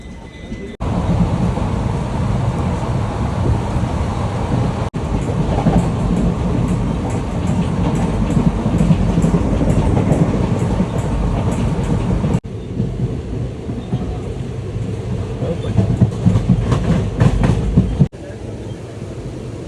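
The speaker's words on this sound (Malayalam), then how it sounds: "നമ്മൾ ട്രെയിനിൽ കുറ്റിപ്പുറത്ത് പോയി ട്രെയിൻ കയറി നേരെ പയ്യന്നൂരേക്ക് പോവുകയാണ്" Passenger train in motion in Kerala, running north from Kuttippuram toward Payyanur, with a steady loud rumble and rattling clatter from inside the carriage, brief drops in level where the track sound shifts, and faint voices nearby.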